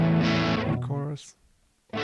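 Electric guitar with a shimmering chorus effect: a sustained chord rings out, fades into a short silence, then another chord begins.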